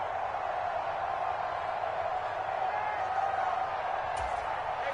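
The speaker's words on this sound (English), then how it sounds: "this crowd urging on their defense. They're up and making noise" Stadium crowd noise in a football video game on a third down, a steady roaring din of fans making noise for the defense, continuous and even throughout with no distinct peaks.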